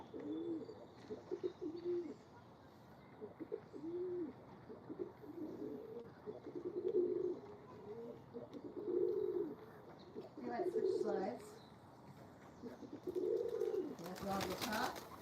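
Pigeons or doves cooing in a repeated series of soft, rhythmic calls at moderate distance, each phrase a few seconds apart, with faint outdoor ambience and a rustling burst near the end.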